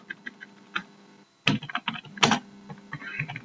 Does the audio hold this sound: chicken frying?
no